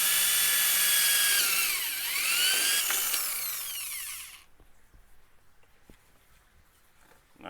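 A power drill with a drill bit runs loud and close while boring a hole during the making of a bell siphon, the high whine dipping under load and rising again for about four seconds before cutting off, followed by a few small clicks and handling sounds.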